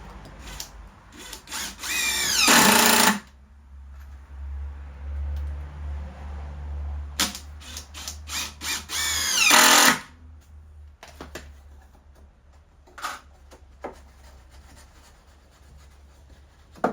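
A power drill boring holes into wood framing in a workshop, two loud whirring bursts each a few seconds long with quieter tool handling and clatter between them.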